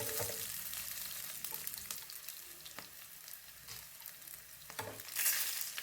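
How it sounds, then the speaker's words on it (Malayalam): Small chopped onions and dried red chillies frying in hot oil for a raw mango curry, a quiet steady crackle with a few soft stirring knocks and a brief brighter hiss near the end; nobody speaks. "ഒരു 3 വറ്റൽമുളക് കൂടി ചേർക്കാം."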